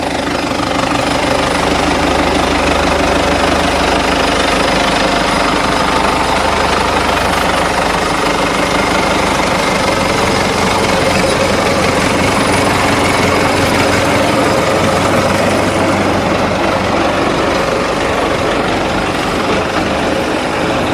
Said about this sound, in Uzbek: Texnikamiz yurdi, apparaturalari ham juda ham zo'r holatda, motorlari ham tekis holatda ishlab turibdi.